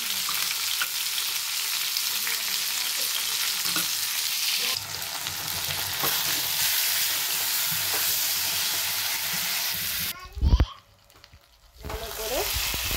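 Boiled potato and pointed gourd frying with spice paste in a pan, a continuous close sizzle with occasional stirring clatter that cuts off sharply near the end before resuming.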